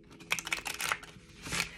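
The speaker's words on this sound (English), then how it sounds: "I'm going to do another shuffle, and if these cards don't shuffle smoothly, I'm going to use another deck." A tarot card deck is shuffled by hand, a short burst of quick, crisp papery clicks and flutters, fairly quiet and close, with no talk.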